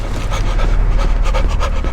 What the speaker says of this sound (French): Ces créatures à l'apparence de femmes fantomatiques qui passent à travers les murs avec leur respiration forte là.